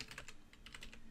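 Rapid, light keystrokes on a computer keyboard as a project name is typed into the VEXcode VR Python editor, a quiet, steady run of clicks with no talking.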